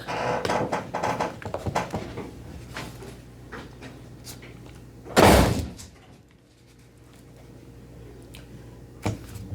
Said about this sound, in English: That old door just sounds like it used to when the sheriff's office was in here.